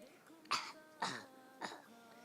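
Three separate throat-clearing coughs from a child, each a short harsh burst with a pause between, fairly close and fairly quiet, with no other sound between them.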